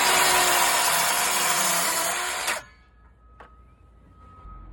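A power saw cutting through a 2x4 wooden board, a loud, steady buzzing whine that stops abruptly partway through, leaving near silence with a faint click afterward.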